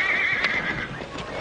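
A horse lets out a loud, close whinny that rises and falls over about a second, with faint hoof movement underneath.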